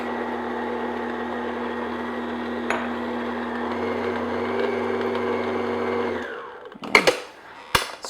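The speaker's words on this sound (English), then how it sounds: "stop my mixer" An electric stand mixer hums steadily on low speed while mixing cake batter with flour and milk, a close, even motor drone that winds down and stops, followed by a few clanks.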